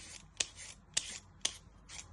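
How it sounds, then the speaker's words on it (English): A handheld peeler scrapes a potato in three crisp, evenly spaced strokes, each a quick close rasp fading into soft shavings noise, quiet and without talk. "You first want to peel it using a peeler."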